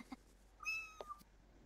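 A Sims 4 video-game kitten gives a short, clear, high meow, with a few soft clicks around it in an otherwise quiet scene.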